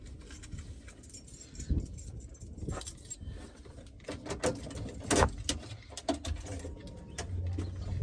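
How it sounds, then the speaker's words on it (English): Car keys jangle and clink in irregular bursts as they go into the ignition, close and fairly quiet, with small knocks and rustles around them and no speech. "let me put the keys in here"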